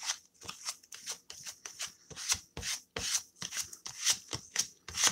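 A small card scrapes alcohol ink paint across a surface, giving a run of short, dry rasping strokes in a quick uneven rhythm, close and fairly quiet, with no voices.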